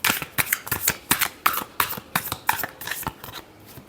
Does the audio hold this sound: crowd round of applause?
no